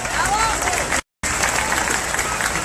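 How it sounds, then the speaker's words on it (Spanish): A crowd at an outdoor campaign rally in Guaymas, Sonora, claps loudly, a dense continuous wash of applause cut by a short drop to silence before it resumes. "Fuerte el aplauso para nuestro candidato a diputado federal por el Distrito 4, Heriberto Aguilar."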